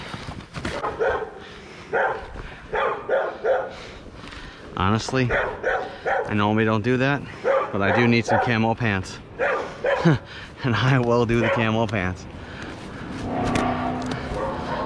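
A dog barks repeatedly in the background while someone talks steadily over it, sorting scrap metal.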